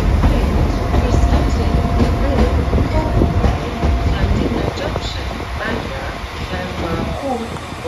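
A Class 175 diesel train rumbles loudly into a station platform, wheels clattering on the rails, with people talking faintly in the background.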